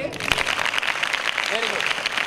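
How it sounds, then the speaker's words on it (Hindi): Schoolchildren in a classroom clap steadily together for a kathak dance teacher, a dense ongoing patter of hands with voices mixed in and a brief vocal flourish partway through. "तो एक बार इनके लिए ताली बजानी चाहिए।"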